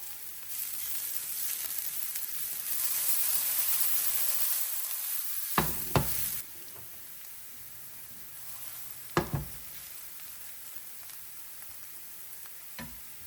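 Garlic and green onion sizzle in hot oil in a pan, a soft steady frying hiss that swells and fades, broken by a few clinks and scrapes of stirring.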